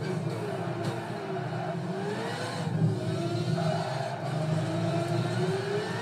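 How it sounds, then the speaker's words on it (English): Mazda rotary-engine race cars in Gran Turismo 5 drone steadily at Fuji Speedway, several engines buzzing and whirring together as they accelerate, with no talk over them. "these rotary engines are so annoying"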